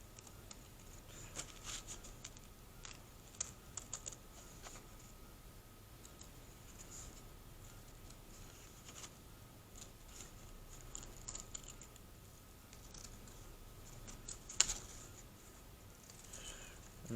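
Scissors snipping paper while cutting out a walking duck craft along black lines, quiet steady crisp snips and rustles at close range with no talking.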